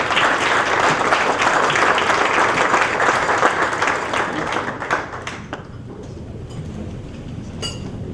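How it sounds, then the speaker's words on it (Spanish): Audience applause at a business breakfast welcoming a speaker, a dense clapping crowd, loud and steady for about five seconds before thinning to scattered claps and quieter room noise. "les pido que me acompañen en recibir a Rubén con un fuerte aplauso"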